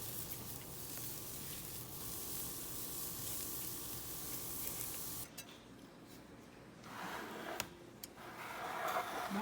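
Pork barbecue, mussels and chicken sizzle steadily over a grill, a continuous close crackling hiss that thins partway through before swelling again with a few sharp pops near the end.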